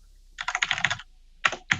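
A short burst of keyboard typing as a password is entered in a terminal, several quick clacks, a brief pause, then two more distinct keystrokes, close up.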